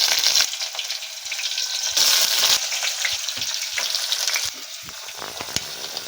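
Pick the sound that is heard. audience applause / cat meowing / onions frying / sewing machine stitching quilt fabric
onions frying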